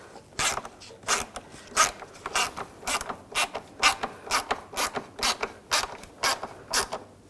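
A ratchet tightens the mounting screws on a 2011-2018 Volkswagen Jetta AC condenser. It gives a steady series of sharp, close clicks in a regular rhythm, with no one talking.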